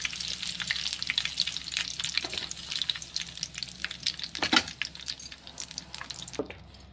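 Chicken legs deep-frying KFC-style in hot oil give a steady, close sizzle with dense crackling pops and a few louder bursts, alone with no talk.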